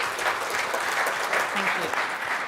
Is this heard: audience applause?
yes